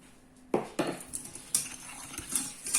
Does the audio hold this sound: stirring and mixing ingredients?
yes